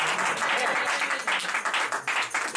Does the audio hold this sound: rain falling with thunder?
no